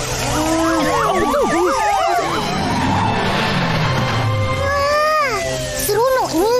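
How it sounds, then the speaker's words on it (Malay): Emergency vehicle sirens, police car, fire engine and ambulance, wail loudly and close in overlapping rising-and-falling patterns, alongside engine rumble, in an animated cartoon street scene. "Kereta polis, bomba, mobil ambulans, semua ada."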